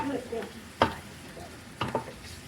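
Pork pata being stirred with its ingredients in a frying pan, giving a soft sizzle under scraping strokes, with two sharper clanks of the utensil against the pan.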